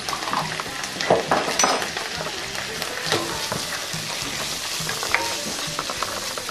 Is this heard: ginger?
yes